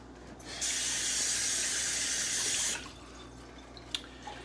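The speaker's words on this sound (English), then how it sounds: "Let me wash my hands." Water runs steadily from a kitchen tap for about two seconds as hands are washed at the sink during shrimp, sausage and spinach penne prep, then cuts off, leaving a quiet room with a few small clicks.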